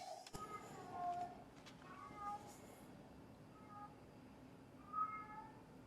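Kitten in heat yowling indoors, a string of drawn-out, wavering meows repeating every second or so, moderately close but fairly quiet, with faint background sounds between the calls.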